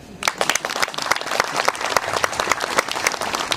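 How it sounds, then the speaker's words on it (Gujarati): A congregation applauds at a church thanksgiving meeting in a village, with dense, steady clapping from many hands sustained throughout at close range, with no talk over it. "તાળી પાડો."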